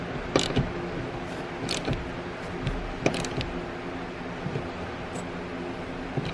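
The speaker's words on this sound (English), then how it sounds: "So let's go ahead and tighten these down." Seat bolts on a Toyota Tacoma being tightened by hand inside the truck: close, scattered sharp clicks and creaks from the tool and bolts, irregular and spaced apart, over a steady background hiss, with no talking.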